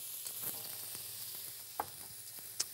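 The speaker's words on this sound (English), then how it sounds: "So we've got the mushrooms sautéing away there nicely" Mushrooms and snow peas sauté in a hot pan with a steady, quiet sizzle, close up, broken by a few sharp crackles and pops.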